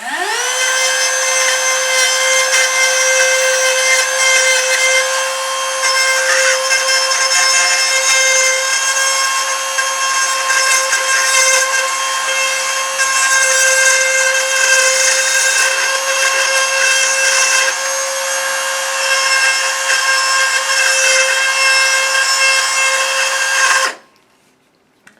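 A high-pitched rotary power tool spins up and whines steadily for over twenty seconds while it carves and shapes ficus bonsai wood, loud and close, then cuts off abruptly.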